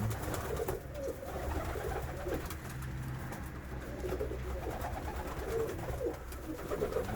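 Pigeons coo repeatedly in low, soft murmurs against a steady rustling background, with no talking.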